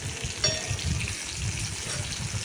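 Eggplant slices frying in oil over a low flame give a steady, close sizzle and crackle that runs evenly throughout, with no voices.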